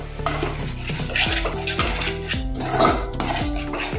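A spoon stirs potato curry with malai in a metal pan, scraping and clanking against the pan in a close, steady rhythm with no voices.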